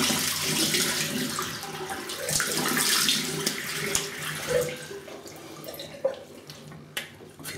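Water running from a tap as a face is rinsed after a shave with a stainless steel safety razor, a steady close splashing wash with a few drips and knocks near the sink.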